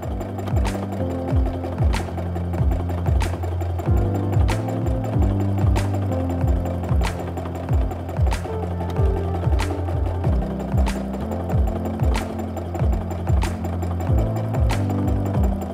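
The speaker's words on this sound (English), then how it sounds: "I always kind of stitch in place a little bit as I get going" A sewing machine runs free motion quilting stitches in a stipple meander, with rapid mechanical stitching in short repeated bursts separated by brief pauses, close and steady, with no voices.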